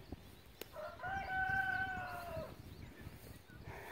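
A rooster crows once at moderate distance from a chicken coop, a long wavering call, with soft clucking and rustling around it and a few faint knocks.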